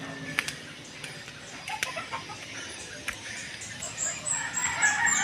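Chickens and a rooster on a rural household yard in the Philippines crow and cluck amid steady background noise. The calls are scattered and grow louder toward the end.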